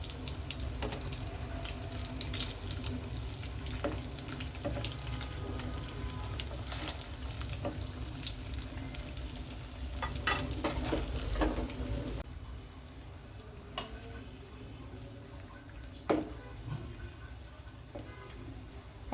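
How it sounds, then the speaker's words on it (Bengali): Rice-flour snacks frying crisp in hot oil in a pan, a steady hissing sizzle with scattered pops and crackles running throughout, dipping slightly near the end, with no talk. "এরপর এক পাশ করে মুচমুচে ভেজে নিব।"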